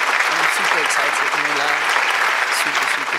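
Steady applause fills the whole stretch, continuous clapping that stays loud throughout, with a voice faintly underneath.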